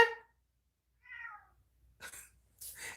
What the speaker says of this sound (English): My cat's just meow meow.